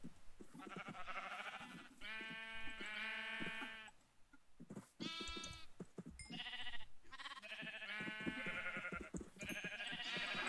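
Sheep in a video game bleating repeatedly, several wavering calls in overlapping bursts at moderate loudness with short pauses between them.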